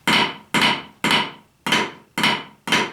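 Open, old-school drum flams: six sharp, evenly spaced double-stroke hits about half a second apart, loud and close, each with a quick crack and a short ringing decay, alone with no talk.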